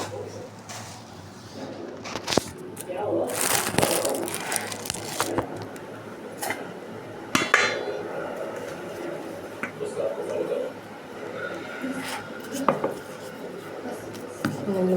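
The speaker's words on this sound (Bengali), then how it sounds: "লুচি বেলছি" Luchi dough, a Bengali fried bread, is being rolled out, giving soft rubbing and knocking strokes of a rolling pin on a board in an irregular rhythm, close and moderately loud, while someone talks over it.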